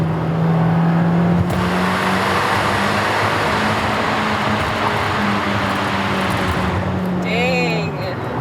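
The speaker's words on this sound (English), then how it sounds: "Fiat managed to make one of the meanest sounding small displacement engines on the market" The engine and exhaust of a Fiat 124 Spider Abarth drone steadily from inside the moving car, fairly subdued, with road noise and people talking over it.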